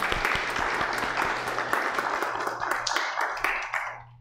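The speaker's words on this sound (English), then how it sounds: "And now it is perfectly fine to clap" A church congregation claps during a worship service with a baptism, a moderate, even patter of many hands that holds steady and then trails off at the end.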